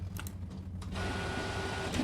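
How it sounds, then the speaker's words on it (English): A printer inside a forbidden library in a horror game whirs into steady mechanical operation after a few brief clicks, running continuously and fairly close. "Printer still works, so that's good."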